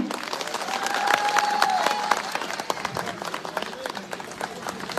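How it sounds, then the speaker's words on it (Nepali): A crowd at an outdoor election rally applauding steadily, dense clapping that swells and holds for several seconds, with some voices and cheering mixed in. "एकचोटि जोरदार ताली"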